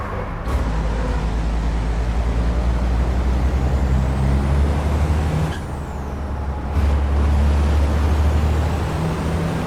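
A racing truck in the ETRC truck racing game, heavy engine drone with two sharp hissing air-brake bursts a few seconds apart as the truck slows for a corner, loud and steady with no talk.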